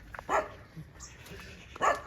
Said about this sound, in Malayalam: പട്ടി കുരയ്ക്കുന്നു.